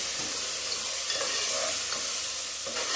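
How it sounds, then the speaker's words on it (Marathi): Carrots and peas stir-fried in oil, a continuous close sizzle with irregular scrapes and clinks of the spatula against the pan, no voices. "तर मी फक्त गाजर आणि वाटाणा टाकलेला आहे. आता मस्त असं तेलामध्ये हे परतून घ्यायचं आपल्याला."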